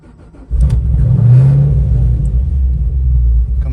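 A 2015 Chevrolet Camaro SS V8 with a GPI SS2 cam blips up from a quiet start into a loud, rumbling rev, then eases down and settles into a steady, lumpy idle close to the microphone.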